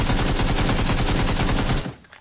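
Rapid automatic gunfire from a PUBG match on PS4, a loud continuous burst of evenly spaced shots that stops abruptly near the end, leaving a quiet tail.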